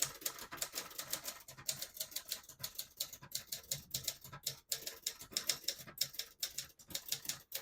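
A 1974 Adler J5 vintage portable typewriter types in a steady, rapid run of crisp key strikes, close up and alone with no voices.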